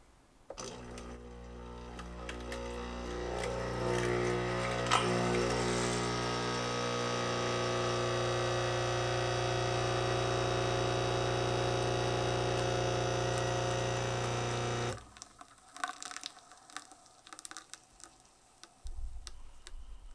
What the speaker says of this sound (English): Put the capsule in, close the lever, and I'll press Espresso.